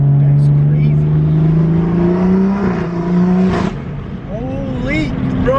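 A 500hp BMW 440i accelerating hard in second gear, its engine note climbing loudly and steadily before easing off, heard from inside the car with excited voices talking over it.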